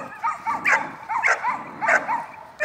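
Barks and yips from a dog during playful protection-training interaction with its handler, in several short bursts spread evenly across the clip, fairly close and clear.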